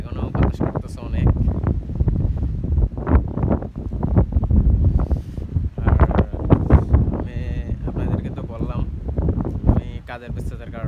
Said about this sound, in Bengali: এখনো বাতাস করতেছে অনেক